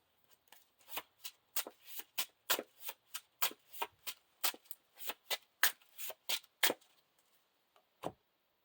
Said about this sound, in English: And then we shuffle this into the encounter deck.